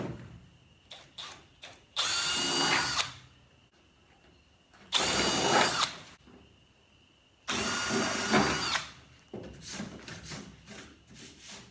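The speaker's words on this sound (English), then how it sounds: "Now we're going to drill the holes a little bit bigger because we're going to just poke these holes out the rest of the way." A power drill enlarging bolt holes in a race car part, three loud bursts of whining drilling separated by pauses, with lighter clicks and handling noises between them.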